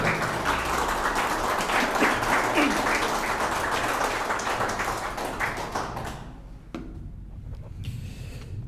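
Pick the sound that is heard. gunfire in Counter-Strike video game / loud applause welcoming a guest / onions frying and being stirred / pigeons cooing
loud applause welcoming a guest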